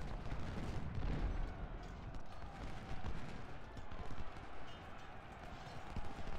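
Massed rifle volleys and cannon fire from an American Civil War battle at Thoroughfare Gap in Ultimate General: Civil War, a dense, continuous rumble of overlapping shots with hoofbeat-like clatter throughout, fairly loud and steady.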